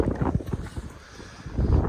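Strong wind buffets the microphone in low, uneven gusts outdoors at minus 6 degrees, fading briefly in the middle before surging again.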